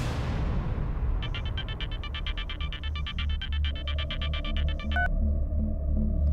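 A telephone ringing in an indoor scene: a rapid repeated electronic trill over a steady low hum, loud and close, with no voices.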